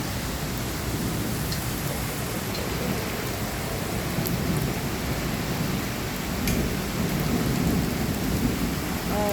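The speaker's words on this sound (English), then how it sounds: "My god, it is raining so bad." Heavy rain pounds down steadily during a thunderstorm, with hail mixed in, forming a loud, dense, continuous wash of noise with brief brighter pattering that runs unbroken throughout.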